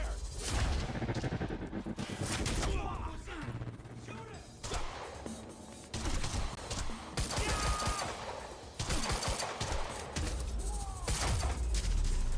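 Dense, sustained gunfire and booming impacts from a firefight in the video game Quantum Break, loud and continuous over about twelve seconds with layered shots and thuds.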